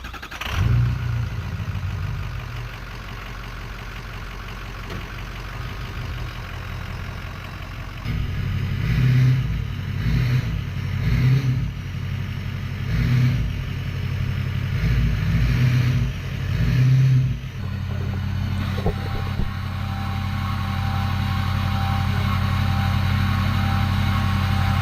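A truck engine runs at a medium idle while backing up to hitch a camper trailer, rising into a couple of revving surges midway and then settling into a steady rumble, close by, with no talk.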